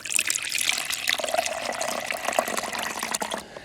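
Coolant from the expansion tank of a Mk5 Golf GTI being poured into a jug, a steady close splashing, trickling stream with no speech.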